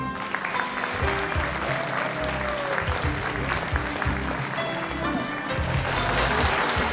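Audience applause at a live night show on stage, a dense, loud wash of clapping that holds steady for several seconds, with a few faint voices mixed in underneath.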